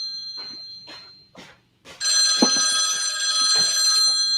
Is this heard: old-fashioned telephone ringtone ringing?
yes